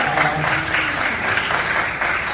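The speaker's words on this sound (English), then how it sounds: "a round of applause for this new officer set" A room of people applauding new officers, dense continuous clapping from many hands, moderately loud and steady with no talk over it.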